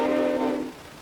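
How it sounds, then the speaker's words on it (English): The MV Armenia's ship whistle in the video game Stormworks sounds one loud, steady horn blast that holds for under a second and then fades. "There's a whistle."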